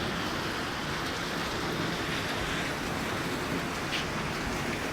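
Heavy rain pours down steadily over a Lancaster subdivision under a dark sky, a dense, continuous broadband hiss with no breaks and no talk.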